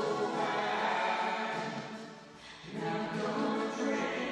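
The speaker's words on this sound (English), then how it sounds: "The fluttery stereo delay." Music run through a fluttery stereo delay: dense, sustained tones with smeared repeating echoes and wavering texture, loud and continuous, dipping briefly midway before swelling back.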